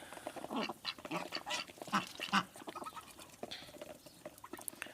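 Ducks on a farm pond with muddy water, several quacks and dabbling calls scattered through the clip alongside pattering and splashing, moderately close with no talk.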